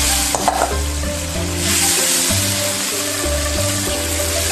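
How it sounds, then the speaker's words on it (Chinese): Pan-fried tofu tipped into a seasoned sauce in a wok for a home-style tofu dish, giving a steady, close sizzle and bubbling with stirring, while faint tonal music sits underneath and no one speaks. "倒入煎好的豆腐"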